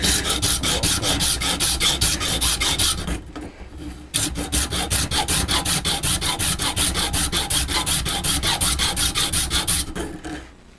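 Hand file rasping a bakelite gasket for a 1/5-scale RC engine in fast, regular back-and-forth strokes, loud and close. The strokes pause briefly once and then resume at the same steady pace.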